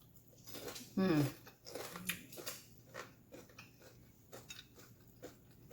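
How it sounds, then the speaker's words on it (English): A sharp crunch of a bite into deep-fried beef honeycomb tripe close up, followed by softer chewing sounds, quiet background and no talking. "Hear that crunch?"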